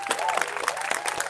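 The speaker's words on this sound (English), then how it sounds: "So give them another round of applause, please." Crowd applause at an outdoor rally in a park, a brief burst of many hands clapping with a few scattered cheers mixed in.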